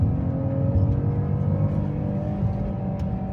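Citroen C6 3.0 petrol car pulling hard in second gear in sport mode on a damp day, giving a steady, loud engine drone that holds for the whole stretch with no talk.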